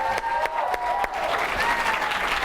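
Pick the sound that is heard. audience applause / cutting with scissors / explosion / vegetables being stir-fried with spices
audience applause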